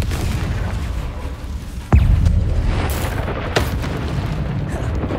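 A Confringo blasting spell from the Hogwarts Legacy video game bursts with a sudden booming explosion that stands out over steady game ambience, followed by a fainter secondary pop.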